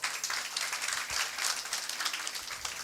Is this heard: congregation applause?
yes